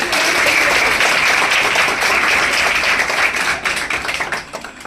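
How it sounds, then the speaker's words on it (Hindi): Audience applause at a school ceremony honoring higher secondary girl students, a dense, steady wash of many hands clapping that thins slightly toward the end. "बहुत बहुत धन्यवाद। जोरदार तालियां।"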